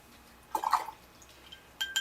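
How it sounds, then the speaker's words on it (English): Water dripped into a paint palette for watercolor, a few soft close drips and light clinks, then quiet. "I'm going to make pools of water or color in my palette here"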